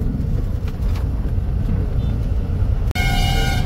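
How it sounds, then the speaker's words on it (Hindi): Busy road traffic with many trucks in Morbi, Gujarat, a loud continuous roar of passing engines and tyre rumble close by, with an abrupt shift near the end. "अभी मोरबी में इधर बहुत ज्यादा ट्रैफिक है, ट्रक वगैरह बहुत सारे लोड होते हैं यहाँ"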